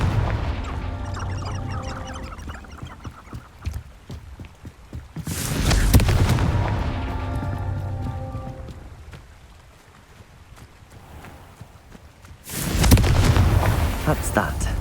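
Two heavy fiery blasts from the Confringo spell in Hogwarts Legacy on Xbox Series X boom out several seconds apart, each with a loud attack and a long rumbling decay over a low ambient bed.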